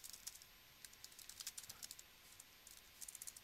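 Code being typed on a computer keyboard, a quick, fairly quiet run of close key clicks in uneven bursts with short pauses, no voices.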